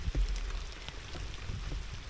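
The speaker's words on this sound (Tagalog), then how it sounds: "Inabot na tayo ng ulan." Rain patters steadily on a surface outdoors during a fishing trip, a soft close hiss with scattered drop taps and a few low thumps, fairly faint throughout.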